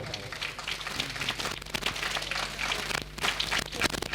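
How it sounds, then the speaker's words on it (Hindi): Audience applause at a Chhattisgarhi Ramayan performance: dense, crackling clapping from a crowd, sustained throughout with uneven swells, over a faint low hum. "एक बार और ताली बजाओ"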